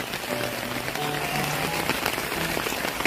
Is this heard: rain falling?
yes